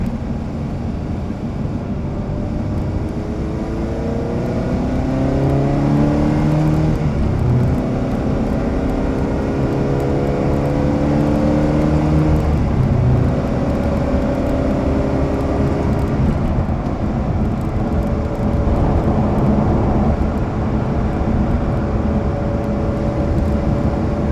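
A Ferrari 360 engine revs loudly and steadily up close, its pitch climbing and falling through repeated rising sweeps over a constant road drone.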